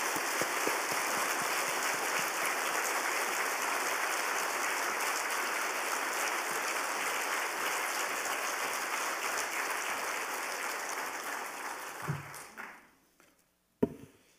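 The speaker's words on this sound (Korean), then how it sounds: "나오실 때 우리 뜨거운 박수로 환영하겠습니다" A church congregation at a special evening service claps to welcome the pastor, dense steady applause holding for about twelve seconds before fading out, followed by a brief thump.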